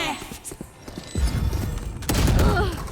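Gunfire in the Valorant video game: rapid shots and busy game effects under loud, continuous sound, growing denser in the last second, with a player's voice mixed in.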